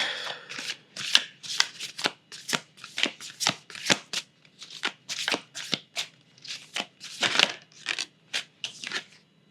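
A deck of Moonology Messages Oracle cards is shuffled by hand in a long run of crisp, riffling bursts, each a sharp flutter separated by brief gaps, close and unaccompanied by talk.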